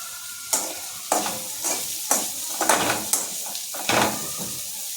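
Bitter gourd sauteing in hot oil in a pan for a Maharashtrian bhaji: a steady close sizzle broken by about seven sharp scraping stirs at a regular pace, with no talking.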